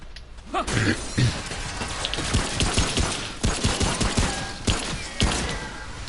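Gunfire in the video game Remnant: From the Ashes, with a string of loud, close shots and mechanical clatter repeating in quick irregular bursts, with no talking.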